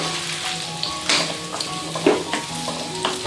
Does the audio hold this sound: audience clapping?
no